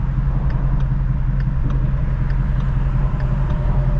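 A Ford Shelby GT350 driving at night in the rain gives a steady low engine rumble with road and rain noise, constant and fairly loud with no voices.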